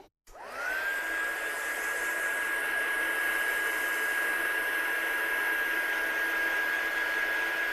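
A hair dryer switches on and blows steadily to dry a wet watercolour painting, producing a loud, close, continuous whooshing rush with a thin high whine held throughout. No one speaks over it.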